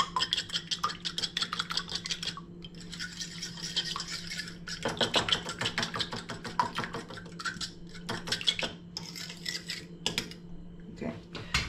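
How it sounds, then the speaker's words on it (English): An egg being mixed in a bowl makes rapid scratchy clicking and tapping of utensil against the bowl in uneven bursts, close and fairly quiet, with brief pauses between them. "Mix up the egg."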